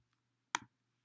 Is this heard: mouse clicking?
yes